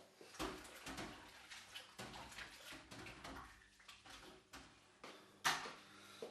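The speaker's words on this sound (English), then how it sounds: "into a hot sink of water and wash it off" A circuit board from a Macintosh SE/30 is rinsed in a hot sink of water, with faint, irregular splashing and sloshing plus occasional clinks.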